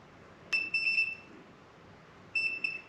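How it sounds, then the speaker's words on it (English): Two short electronic beeps from an ignition timing tester as the points open on a Douglas D28 motorcycle engine, clear and tonal, separated by a pause of about two seconds against a quiet background. "turn this until we just get a beep as the points open"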